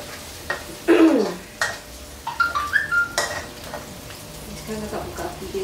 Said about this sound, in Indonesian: Yang ni, kak goreng dulu.